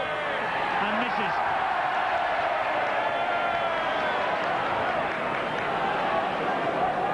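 Crowd noise at a 1992 Widnes versus Halifax rugby league match, a steady, distant roar of spectators with scattered cheering and clapping, under a commentator's voice.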